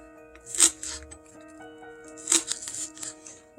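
A knife cuts green onion greens or chives on a board: two crisp, separate chopping strokes about two seconds apart, with soft background music underneath.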